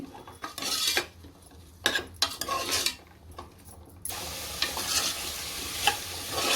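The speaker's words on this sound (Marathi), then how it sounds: "भाजी आपण एक मिनटं परतूया चांगली" Vegetables for pulao sautéed in oil in a pressure cooker, with close spoon scrapes and knocks against the metal, then a steady sizzle under continued stirring.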